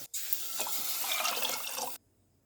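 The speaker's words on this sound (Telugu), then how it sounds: "వెజిటేబుల్ వేగిపోయినా వాటర్ పోసుకోవాలి" Water pours in a steady, splashing stream into a pan of fried vegetables and Maggi masala for about two seconds, then stops abruptly. It is fairly close and there is no talking.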